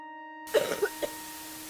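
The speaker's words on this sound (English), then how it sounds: "your TV's coughing" Short coughs from a TV set inside a horror point-and-click game set in a hospital: two or three rough bursts over a steady electronic hum, after a moment of silence.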